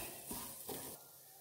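Rice sautéing in a pan for ghee rice gives a soft, close sizzle with a couple of scraping stir strokes, quiet and brief, with no talking.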